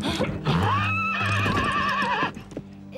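A horse gives a loud, close whinny with a rising then wavering pitch lasting about two seconds, set in a stable scene with other horses, and a faint clatter follows.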